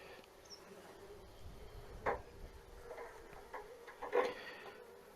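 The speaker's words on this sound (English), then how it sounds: "there's just a bunch of buzzing bees that sound like they have no mama" Honey bees in a queenless nuc hum faintly and steadily, with a couple of brief, louder ticking bursts rising above the low drone.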